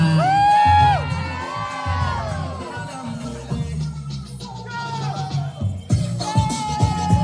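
A festival crowd shouts and cheers loudly, with high whooping and yelling voices rising and falling in waves, some children among them, close and sustained.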